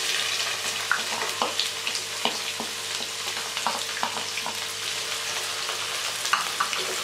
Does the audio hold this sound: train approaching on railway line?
no